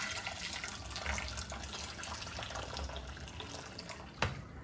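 Hot water pours into a container in a home kitchen, a steady trickling splash that runs throughout, with a brief knock near the end.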